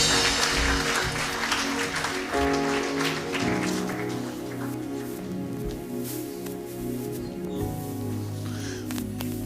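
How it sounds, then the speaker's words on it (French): A church congregation applauds for the Holy Spirit, a sustained patter of many hands clapping in a reverberant hall, with music and voices running underneath. "Acclamons pour le Saint-Esprit"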